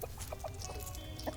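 Chickens cluck in the Dungeons 4 video game, a few short, fairly close clucks scattered over a steady in-game ambient backdrop.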